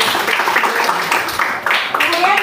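A ninth-grade class claps together in a school classroom, a loud, close burst of hands with rhythmic accents and voices mixed in among the clapping.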